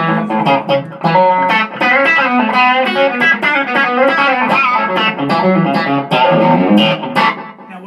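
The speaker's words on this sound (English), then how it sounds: "I want one to give me some slap back and one for some real echo." A Bell Epoch Deluxe echo unit adds a tight slapback repeat to a loud, twangy country-style electric guitar line, the notes played in quick succession with short echoes trailing each one and no talking.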